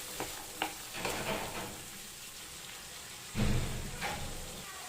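Black chickpeas sauté in masala, a steady close sizzle with scraping stirs throughout and a louder surge of frying near the end. Nobody talks.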